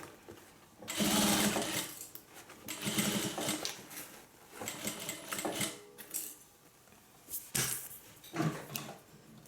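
A sewing machine stitches fabric panels for a hippie van in several short rattling bursts separated by brief pauses, close and fairly quiet, with no talking.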